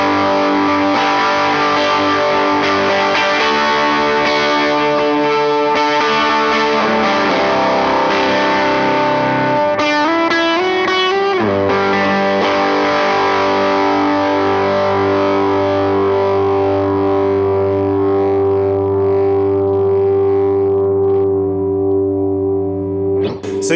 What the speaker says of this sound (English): That's a pretty cool overdrive distortion style pedal.